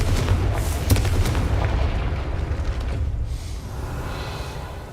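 A Confringo blasting spell goes off in a Harry Potter video game, a loud deep boom with rumbling debris that rolls on and slowly fades over several seconds.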